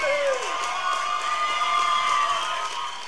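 Audience on a stage event cheering and clapping, steady crowd noise with whoops and shouts held throughout, fairly close and full, a brief voice sweep at the start.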